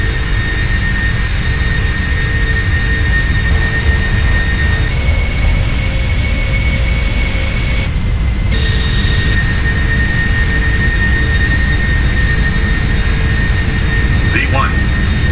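Boeing 747 jet engines roaring on a takeoff roll down a runway in the PMDG flight simulator, a loud continuous rumble with steady whining tones that shift partway through, with a brief click near the end.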